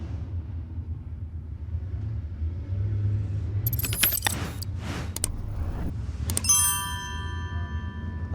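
Crate late model race cars with 604 engines qualify at 411 Motor Speedway, a low engine rumble running throughout at a distance. Sharp metallic jangles and clicks break in near the middle.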